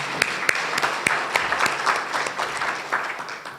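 Audience applause at a community morning event, a short burst of scattered claps with a few sharp louder hits, moderately near and fading slightly toward the end.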